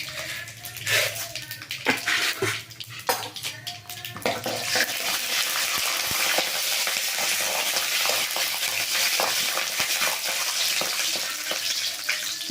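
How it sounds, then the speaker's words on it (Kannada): Mustard seeds, peanuts and chana dal frying in oil in a kadai, starting with clattering stirring and knocks, then settling into a steady loud sizzle that runs on alone. "ಈಗ ನಾನು ಬಾಣಲಿ ಇಟ್ಕೊಂಡು ಎಣ್ಣೆ ಹಾಕ್ಕೊಂಡಿದ್ದೀನಿ. ಸಾಸಿವೆ, ಕಡಲೆ ಬೀಜ ಮತ್ತು ಕಡಲೆಬೇಳೆ"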